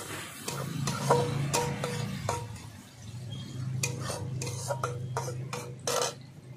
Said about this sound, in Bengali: সেটা পেঁয়াজটা একটু ভালো করে লাল করে ভেজে নেব